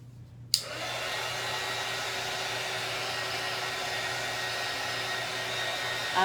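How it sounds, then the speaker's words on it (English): A handheld heat tool clicks on and blows a steady, loud whooshing hum as it dries a fresh coat of paint on a cross, close and continuous with no talking. "You hit it with this heat though so we can get it dry and get moving."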